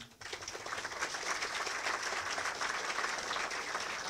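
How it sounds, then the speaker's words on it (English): A crowd at a blockchain meetup breaks into sustained applause for a speaker, many hands clapping steadily and densely for several seconds after a brief quiet start. "a big round of applause for Roberth Lundin."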